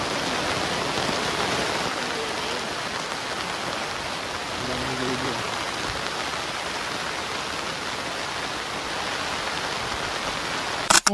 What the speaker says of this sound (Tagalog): Malakas yung ulan, pero okay lang.